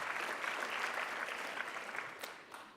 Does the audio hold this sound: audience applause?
yes